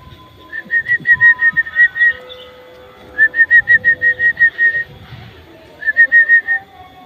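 Bird at a safari park giving three bursts of rapid, clear whistled notes, about six to eight notes each, loud and near, with faint background noise and quiet voices between the bursts.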